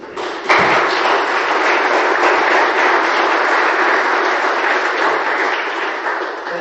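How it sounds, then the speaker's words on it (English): Applause for panelists at a founders' forum, a loud, dense and steady wash of clapping from a seated audience, opening with a brief thump and holding constant throughout. "I'd like to give them a round of applause, please."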